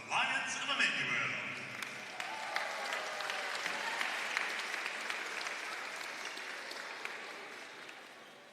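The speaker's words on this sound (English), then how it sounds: "Please give one more round of applause for all of our award winners" Sustained applause from an audience honoring award winners at a college volleyball conference tournament, a dense even clapping that swells quickly and carries on for several seconds, with a voice over the start.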